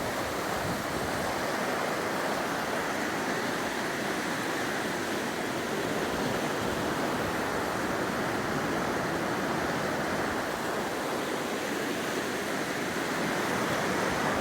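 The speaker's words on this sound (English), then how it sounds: "This water's flowing to Nevada." A river on the east side of the Sierras flows past in a steady, broad rushing wash, constant and fairly close, with no other sounds over it.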